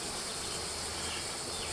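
Honey bees buzz at an open hive during a honey harvest, a soft, dense, continuous hum heard faintly and steadily without a break or any voices.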